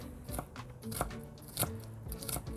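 A knife dices fresh ginger into small cubes on a cutting board, giving sharp, crisp chops at an uneven rhythm of about two per second. The cuts sound close and moderately quiet, with no speech.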